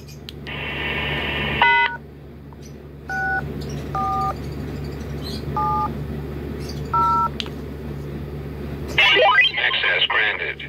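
Radio repeater courtesy beeps and DTMF keypad tones: a steady tone burst, then a short series of paired dialing tones spaced about a second apart, ending in a brighter chirping burst, with a low hum and faint background throughout.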